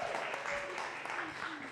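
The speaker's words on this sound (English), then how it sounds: "Yeah, you can clap for that." Faint audience applause at a comedy show, a soft steady patter of clapping lasting under two seconds, fairly distant and low in level.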